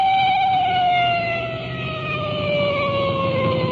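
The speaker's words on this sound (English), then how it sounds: "that siren hits such a high peak it's almost impossible to talk" A loud, sustained 1950s police car siren wails close by, its high tone sliding slowly downward over a rumbling engine, with no voices.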